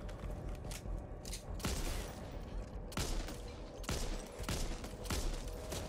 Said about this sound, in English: That is a hell of a gun you got there, Shahn. It's going thunk.